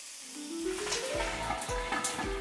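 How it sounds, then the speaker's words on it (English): Beef hitting hot olive oil in a pan on medium heat, a soft steady sizzle with faint stirring scrapes. "put the heat on medium, add 1 teaspoon of olive oil. Now add the beef."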